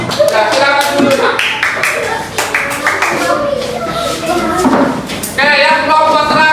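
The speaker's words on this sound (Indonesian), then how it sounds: "tepuk tangan untuk kelompok 2" Classroom applause for a student group, loud rapid clapping from many children with their voices and chatter mixed in throughout.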